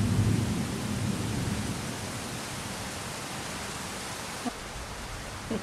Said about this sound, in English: I thought I'd add some, a little bit of the thunder and lightning.